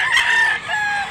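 A 16-month-old rooster crows loudly and close by, one long drawn-out cock-a-doodle-doo filling the whole moment, with no talking.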